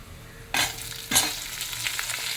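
Onions, a mix of shallots and large onions, sautéing in oil with whole urad dal for a spicy chutney, a continuous near sizzle with two sharper bursts of stirring.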